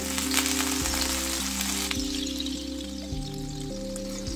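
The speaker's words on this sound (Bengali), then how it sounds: "এবার আমি জল ছিটিয়ে দেবো।" Water sprinkled onto a hot, oiled dosa pan gives a loud, close, crackling sizzle that fills the whole clip and fades slightly as it goes, with a steady tonal hum in the background.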